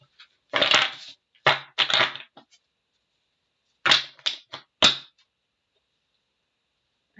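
A stiff, hard-to-shuffle tarot deck being shuffled by hand, short bursts of crisp card riffling and slaps in separate clusters with silent pauses between, close and loud.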